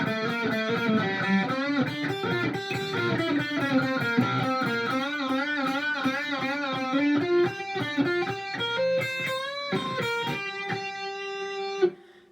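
A distorted electric guitar plays a long melodic phrase from a song's solo, with bending, sliding notes and quick runs, loud and steady, with no voices, ending in a brief sharp accent.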